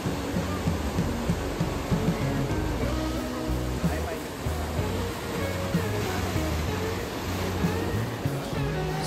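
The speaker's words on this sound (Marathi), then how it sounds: "वर्कला समुद्रकिनारा सर्वात वेगळा आहे" Ocean surf on Varkala beach in Kerala, a cliff-backed shore, rolls as a continuous loud roar of breaking waves with no clear gaps for the whole stretch.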